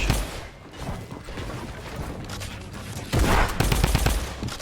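Rapid gunfire bursts crackle while enemies are shot during a competitive scrim match in a video game, the rattling shots continuing throughout and growing louder and denser in the second half, with no voices.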